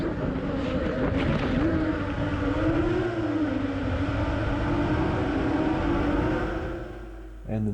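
A SpeedyBee F405 V4 drone's motors and propellers drone continuously with a wavering buzz, steady and fairly loud, dipping toward the end before a short burst returns.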